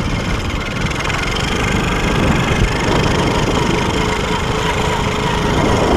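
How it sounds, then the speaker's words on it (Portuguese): A moped engine runs nearby with a rough, rattling putter, loud and steady throughout with slight fluctuations. "Esse motor tá muito forte, mano."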